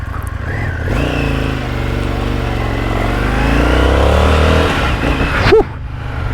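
A limited-edition Indian FTR 1200 R Carbon motorcycle with an Akrapovic exhaust accelerates hard, its loud, close engine note climbing steadily in pitch through the gear before a short blip at the end.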